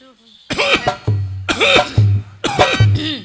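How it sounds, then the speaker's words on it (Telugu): Three deliberate, forced coughs from one person come at a steady pace, each a harsh voiced bark with some throaty rumble, close up and fairly loud. "నేను దగ్గర చూపిస్తాను చూడు"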